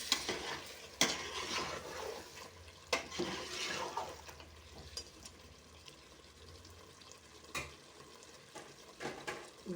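Green chicken biryani with coriander and mint being stirred and mixed in a pot, giving close scraping and sloshing strokes with a few sharp clatters and a light sizzle underneath, no talking.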